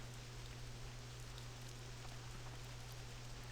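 Steady rain in World of Warcraft falls as a faint, even hiss, joined by a low constant hum, with no voices.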